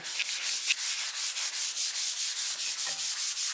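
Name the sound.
polishing a 7-string Les Paul guitar with pads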